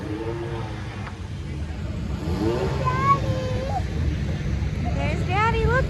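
A turbocharged, front-wheel-drive Honda Prelude race car sits on the start line, its engine revving in a few rising bursts at a distance under steady wind and crowd babble.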